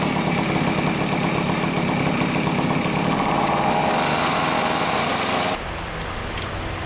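A Garelli VIP moped engine idles close by with a continuous buzzing rattle, then drops to a slightly lower, quieter level near the end.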